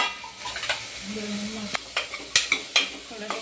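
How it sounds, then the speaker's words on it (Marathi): Cut potatoes and onions hiss and sizzle in a hot pan while a spoon scrapes and clinks against the metal in quick, uneven stirring strokes, close and moderately loud. "आता आपण मध्ये आलूची कांदे टाकतो कापून"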